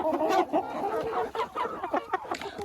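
Hens and chicks in a chicken coop keep up a busy, faint murmur of overlapping clucks and peeps close by, with no talking.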